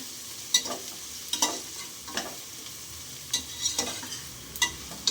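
Thick-cut onions fry and sizzle in a pan while a spoon stirs them, with a steady hiss broken by several sharp scraping strokes at an irregular rhythm, close and moderately loud, with no talking.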